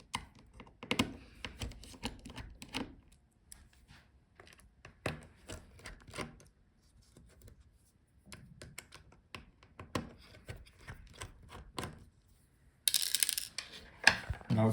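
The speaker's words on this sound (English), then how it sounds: "So unscrew the hinges." Small screws being backed out of the hinges of a Dell Pro Plus 14 laptop during a teardown, heard close up as a run of quick clicky ticks and scrapes with short pauses, then a louder burst of handling noise near the end.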